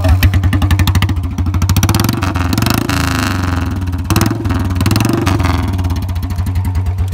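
A Bullet 350 motorcycle's single-cylinder engine thumps into life close by, settling into a loud, steady, pulsing beat with brief revs rising and falling throughout.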